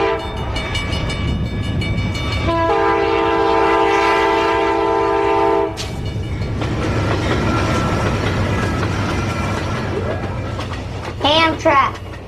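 A big Amtrak passenger train rumbles past close by with rhythmic clickety-clack, a long sustained horn blast sounding midway, and brief voices near the end.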